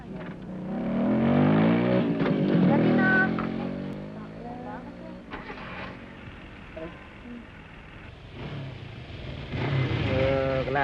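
A motorcycle engine rumbles, rising and falling before it stalls, in a drama film scene, with people talking over it.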